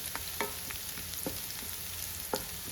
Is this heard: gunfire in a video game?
no